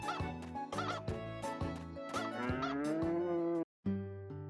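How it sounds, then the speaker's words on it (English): Game farm animal sounds from Harvest Moon: Hero of Leaf Valley, a cow mooing in long tonal calls with goose-like honks and other livestock calls over a steady game music bed, loud and continuous with one brief gap near the end. "I hope you enjoy the sounds of the mooing and the chickens and the horse"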